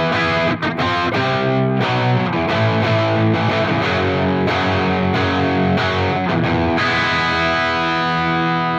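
Electric guitar played through a Marshall Astoria Custom KT66 amp on the high gain input, gain at noon, giving a thick, dense distorted tone with sustained chords and repeated rhythmic attacks, loud and continuous throughout.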